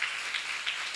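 A congregation at a church seminar claps together in a brief burst, a dense, even patter of many hands with no voices over it.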